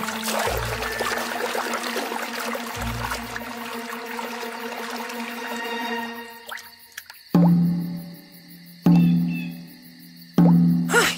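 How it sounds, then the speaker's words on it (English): Loud clear drops of water plop at spaced intervals, each ringing out before the next, following a noisy stretch with rumbling thumps. "The dreaded drip of doom."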